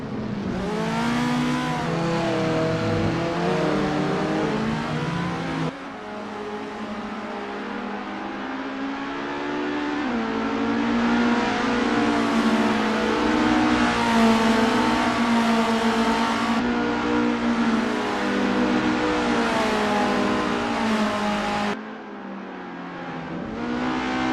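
An Isuzu Bellett GTR in the Assetto Corsa racing game on an outlap at Autodrom Most, its engine droning steadily and rising through the gears with brief drops at each shift, loud and continuous with no talk.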